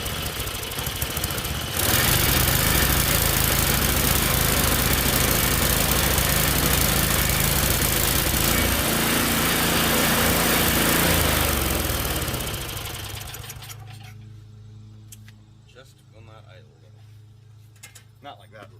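A Tecumseh engine on a snowblower, its carburetor freshly cleaned, starts and runs loud and steady up close for several seconds, then winds down and stops, leaving faint clicks and handling noises.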